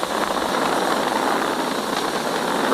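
SpaceX Falcon 9 Merlin 1D engines throttling down during launch, heard as a dense, continuous, steady roar with broad rumbling noise and no distinct events, fairly loud and uninterrupted, without voices.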